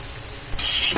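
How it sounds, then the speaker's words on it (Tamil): Broccoli frying in oil in an iron kadai, a steady hiss that swells into a louder, bright sizzle halfway through, close and continuous with no voices. "இந்த பெரட்டினதை அப்படியே நம்ம இந்த கடாயில் போட்டு ஃப்ரை பண்ணிக்கலாம்."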